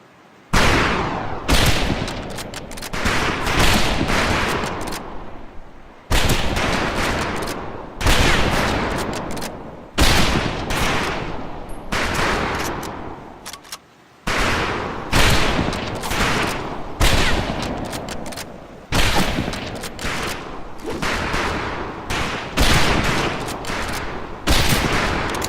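Rifle fire on a shooting range in the video game Medal of Honor: Pacific Assault, loud overlapping shots from several shooters crackling in dense volleys, broken by brief silent gaps between rounds.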